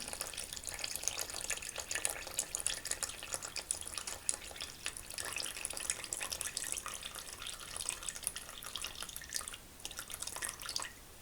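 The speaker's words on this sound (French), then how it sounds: "pour une dose de 250 g de farine, j'y rajoute 150 g de flotte, donc tiédie" Lukewarm water, 150 g of it, poured onto 250 g of flour for dessert empanada dough: a steady trickling, splashing stream that runs without pause for about eleven seconds, close but fairly soft, with no one talking.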